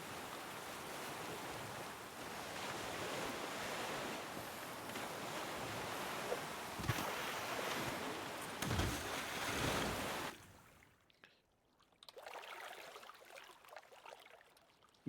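River water rushes and washes steadily while rafting downstream in the survival video game The Flame and the Flood, a dense broadband wash with a few splashy surges, then cutting to quieter ambience near the end.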